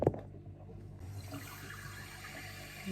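Running water pouring steadily like a shower, a continuous hiss and splash at moderate distance after a brief knock at the start, quiet and unbroken.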